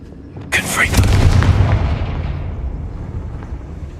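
A Confringo fire spell blast in the video game Hogwarts Legacy: one sharp, loud burst followed by a rumbling boom that fades over a few seconds, with a voice briefly over it.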